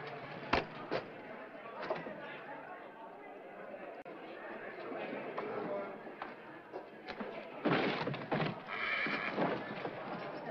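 A lively rodeo crowd chatters and calls out while bucking horses whinny and hooves thump nearby, with sharp bursts of noise near the end.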